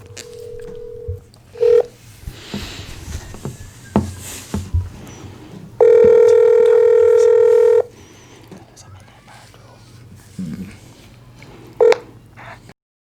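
A telephone dials out on a call to a niece: short touch-tone beeps, then a long steady ringback tone. A voice speaks briefly around the tones.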